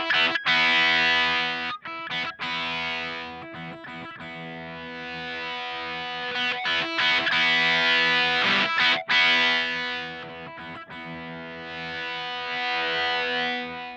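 Electric guitar through an Analog Alien Rumble Seat pedal with treble cut, giving a dense, distorted, effects-laden tone; chords and riffs played continuously for about fourteen seconds, loud and close, with brief gaps between phrases.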